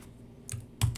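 A computer keyboard typing a folder name, with just two or three quick, faint keystrokes clicking close by in a quiet room.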